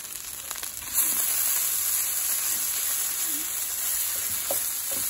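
Hungry Jack hash brown potatoes frying in an electric skillet, a steady close sizzle and hiss with faint crackles and occasional stirring scrapes.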